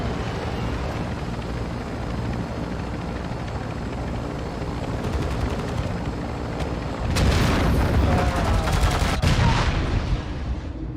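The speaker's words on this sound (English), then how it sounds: "chopper gunner in the AO" A chopper gunner helicopter fires in Call of Duty: Modern Warfare II: a steady rotor drone and battlefield noise, then a loud burst of heavy gunfire and booming impacts in the latter half.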